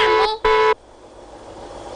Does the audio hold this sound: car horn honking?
yes